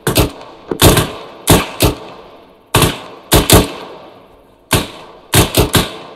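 Rifle and machine gun fire in the video game Arma 3, sharp loud bursts of two or three shots repeating in irregular groups with short echoing tails between them.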